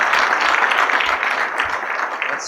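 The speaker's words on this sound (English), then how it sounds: "we owe them a round of applause for all their efforts" Applause closes a biochar conference session: a dense, steady wash of many hands clapping, sustained and fairly loud from start to finish with no voices over it.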